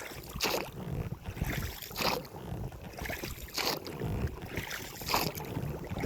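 A small fishing boat moves across a lake, with splashing and sloshing in bursts and gusty wind buffeting the microphone throughout.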